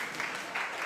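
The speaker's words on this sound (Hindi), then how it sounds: "एक बार फिर से ताली बजाओ" Short burst of audience clapping on a Hindi children's TV show set, fairly faint and uneven, lasting under a second with no talking over it.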